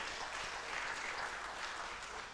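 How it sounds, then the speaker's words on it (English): An audience applauding at a fish product launch and dissemination event, a faint, distant-sounding wash of clapping that stays even and tapers slightly at the end. "A round of applause for Patrick."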